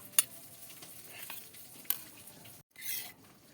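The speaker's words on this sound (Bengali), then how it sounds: "আমি ভালো করে একটু মিশিয়ে নেব" Sour yogurt and flour being stirred together in a bowl while preparing rui fish kofta curry, soft quiet scraping and clinking of a spoon against the bowl with a couple of sharper taps, close and faint.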